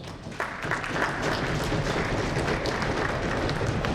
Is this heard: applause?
yes